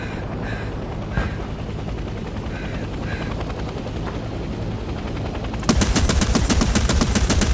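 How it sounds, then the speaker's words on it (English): Helicopter rotor thumping in Hell Let Loose Vietnam, then an anti-aircraft gun opens up with rapid, loud, evenly spaced bursts of fire over the aircraft's drone for the last couple of seconds. "enter the AA gun and shoot down the enemy chopper"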